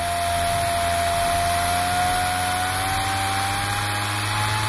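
A prototype compressed air motor runs steadily at about 60 PSI, giving a continuous high whine with a slowly rising pitch over a low mechanical hum, loud and uninterrupted with no talk.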